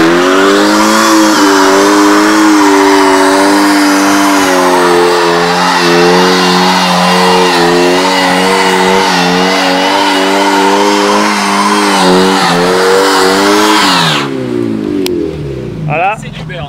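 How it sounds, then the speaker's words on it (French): A Mazda MX-5 doing a tyre burnout revs loud and sustained, the engine note rising and falling for many seconds before it cuts off abruptly near the end, close and dominant. "Voilà, C'est du burn. ton premier burn."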